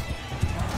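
Horse hooves clip-clopping at a gallop during a cavalry charge in the medieval battle game Mount & Blade II: Bannerlord with a guns and powder mod, a brief burst of hoofbeats mixed with battle noise.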